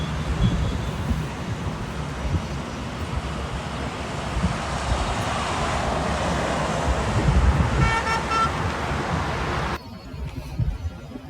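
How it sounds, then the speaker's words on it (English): An old red and yellow oil tanker truck drives along a road with a constant engine and traffic rumble and wind noise, plus short horn toots near the end before the sound drops away. "Wow, it's a red and yellow color combination of oil tanker guys."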